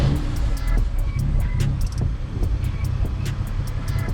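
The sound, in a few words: BMW M3 F8X engine startup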